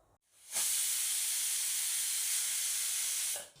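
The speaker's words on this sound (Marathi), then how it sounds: "इथे कुकरची 1 शिट्टी झालेली आहे" A pressure cooker cooking potato bhaji lets off steam in one loud, steady hiss lasting about three seconds, starting and stopping abruptly, heard alone without talk.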